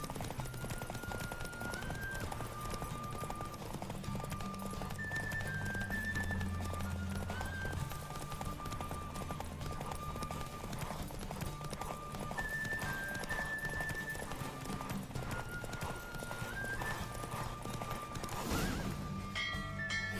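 Rhythmic hoofbeats of a galloping horse in a race in The Witcher 3: Wild Hunt continue steadily throughout, with occasional whinnies and a bright musical score playing underneath.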